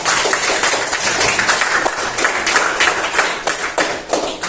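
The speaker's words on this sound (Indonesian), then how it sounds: "Iya, beri tepuk tangan temannya" Students in a classroom clapping for a classmate, a dense fast patter of many hands at close range that carries on steadily throughout with no pause, loud and uneven.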